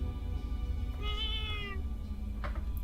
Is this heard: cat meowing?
yes